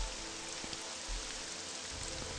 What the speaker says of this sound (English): Thunder in the distance, the rain's coming down.